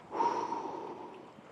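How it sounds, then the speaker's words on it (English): A single sniffle from someone with a cold in a chilly mountain onsen area: a short, faint, breathy nasal intake of air, close and alone. "Apologies for my sniffles."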